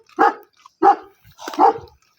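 A dog barks three times in quick succession, loud and close, as it chases other dogs away from its food and territory, with short silent gaps between the barks.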